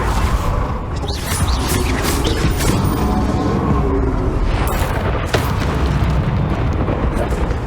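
Bombarda and Confringo explosion spells going off in Hogwarts Legacy, a dense run of booming blasts and crashing impacts that is loud and continuous, with a voice casting spells over it.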